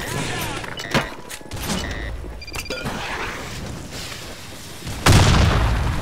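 A bomb explosion in the Blackshot shooter game, a loud sudden boom near the end that follows a stretch of scattered game noises, shots and clatter.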